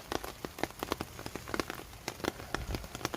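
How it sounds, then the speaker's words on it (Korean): Water sprayed over a potted lemon tree like artificial rain, a dense crackling patter of droplets striking leaves and surfaces, steady and close with scattered sharper taps throughout. "비가 올 때마다 이렇게 인위적으로 비를 맞춰줍니다."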